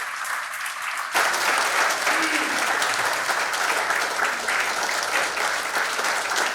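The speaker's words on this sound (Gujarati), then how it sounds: "આપણે તાળીઓથી વધાવીએ આ ક્ષણને" Applause at an award ceremony during a shawl honour: after a moment of quiet, a hall audience breaks into sustained, even clapping that continues to the end.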